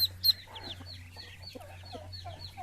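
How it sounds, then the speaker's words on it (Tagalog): Chickens cluck and chirp in quick, scattered bursts close by, with a steady low hum underneath and no talking. "Ay, manok."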